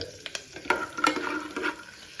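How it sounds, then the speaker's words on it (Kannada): Peanuts fry in a pan for pulao with a steady soft sizzle, while a spatula scrapes and knocks through them in several irregular, close strokes. "ಸೊ ಹಾಕ್ಬಿಟ್ಟು ಶೇಂಗಾ ಎಲ್ಲ ನೀಟಾಗಿ ಫ್ರೈ ಆಗಬೇಕು"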